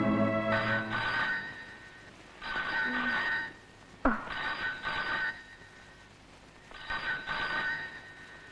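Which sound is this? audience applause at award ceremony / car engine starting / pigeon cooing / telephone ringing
telephone ringing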